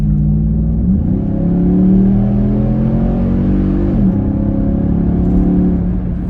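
Nissan Patrol Y62 fitted with a Pacemaker cat-back exhaust accelerating hard on a road, its loud, steady engine drone climbing through the revs, with a brief dip around a gear change, heard from inside the vehicle.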